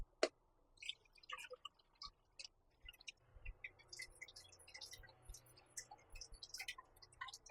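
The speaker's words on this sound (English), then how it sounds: "Now I'm going to strain it off." A blended Caribbean turkey sauce drips and patters softly through a strainer, with scattered small ticks and droplet sounds that grow busier toward the end, close and quiet.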